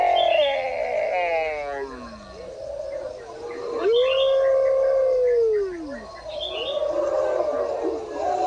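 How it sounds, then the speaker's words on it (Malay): A pack of hunting dogs chasing deer, howling in long drawn-out wails that rise and fall, several voices overlapping at moderate distance in an outdoor setting, with yelps and barks mixed in across the stretch. "banyak sekali anjing pemburunya mengejar kijang di sana"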